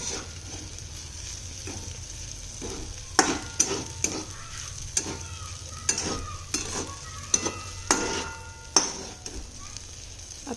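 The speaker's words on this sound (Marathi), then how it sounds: "हे सगळं व्यवस्थित चांगलं हलवून घ्यायचंय।" A spoon stirs a kurdai vegetable dish in a pan over a low, steady sizzle, with a series of sharp scrapes and clinks at irregular intervals.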